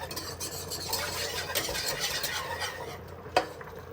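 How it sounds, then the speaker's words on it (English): Flour mixture being whisked in a pan for macaroni and cheese, a steady scraping and stirring texture with light metallic clinks and one sharp tap near the end. "you just start whisking this together till it's nice and smooth"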